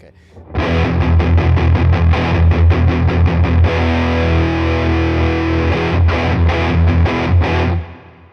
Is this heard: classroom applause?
no